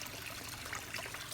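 Water from a backyard pond waterfall trickles and splashes steadily in a continuous, close wash of sound with no voices.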